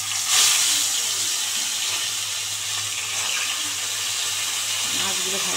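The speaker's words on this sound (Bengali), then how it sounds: "এবার তেলটা ভালো করে তাতলে মাছগুলো ভালো করে কড়া করে ভেজে নেব।" Bhola fish fry in hot oil with a steady, loud hiss and crackle that runs unbroken throughout, no talking heard.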